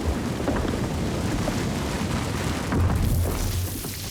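Rain falling steadily with low rumbling thunder, part of a documentary about Ice Age climate change, a heavier roll swelling near the end with no voices.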